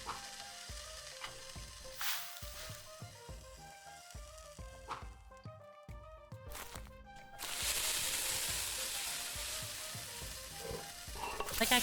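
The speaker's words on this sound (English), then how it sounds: "Sizzle." Food sizzling and frying in the cooking game Venba, crackling steadily with stirring clatter and soft musical tones, swelling into a louder, denser sizzle near the end with no voices.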